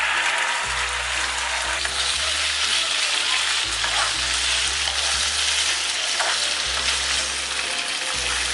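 Sautéed cauliflower and potato fry in a curry pan with a loud, steady sizzle over a low droning hum, with occasional scraping from stirring and no speech.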